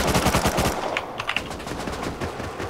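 AK rifle fire in the survival video game Rust: a rapid automatic burst of loud shots that stops abruptly, then faint scattered distant pops and game ambience, with no talking.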